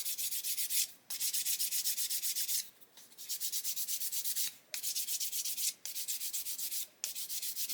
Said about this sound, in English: So I'm just going to sand this until we get the sides nice and flat.